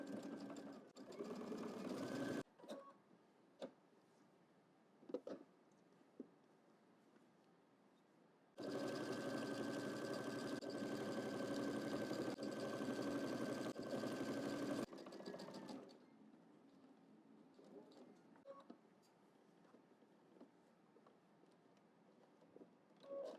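A sewing machine stitches fabric for a double breasted jacket in one steady, loud whirring burst of about six seconds, with quieter handling noises and short clicks before and after.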